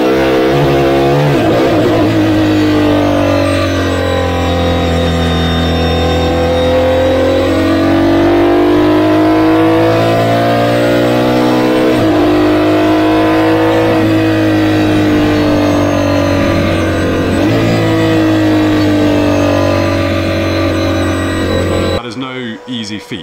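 Aston Martin Valkyrie V12 hypercar engine revving hard: a loud, high-pitched wail that climbs and falls through several long sweeps with brief dips between them, sustained and close for over twenty seconds.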